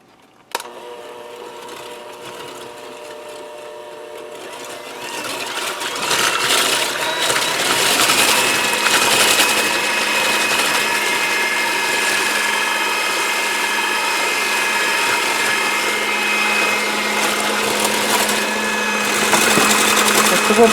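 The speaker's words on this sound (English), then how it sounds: "We're going to start whipping the cream and gradually add some of the sugar." KitchenAid hand mixer whipping cream for a tres leches cake, a steady close motor whine with a rattling mechanical buzz that grows louder after a few seconds and holds constant.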